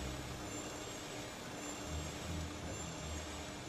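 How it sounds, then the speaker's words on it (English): Aircraft engine noise isolated from a cockpit voice recorder, a faint, constant broadband roar with a steady low hum and a thin high whine, unbroken and without voices. "eliminate all other noises except that frequency of the engines on the cockpit voice recorder"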